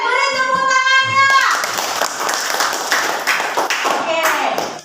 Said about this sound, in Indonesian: Clap your hand. Beri tepuk tangannya.